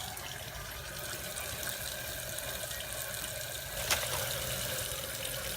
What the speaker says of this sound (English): So what I do is I wet my brush